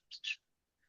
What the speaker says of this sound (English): trending trill of the Swainson's thrush.